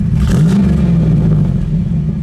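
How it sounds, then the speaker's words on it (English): The tuned port engine of a 1992 Chevrolet Camaro RS revs once near the start, the pitch rising and then falling back toward idle, loud and close. "Go ahead, give it a rev."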